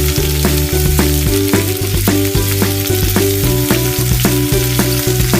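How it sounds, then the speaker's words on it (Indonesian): Tofu and tempeh stir-frying with onion and tomato in a hot pan, a loud, continuous sizzle broken by regular scraping stirs of the spatula, with a steady tone running underneath. "Kami harus ditumis sampai harum dan matang bersama bawang dan tomat."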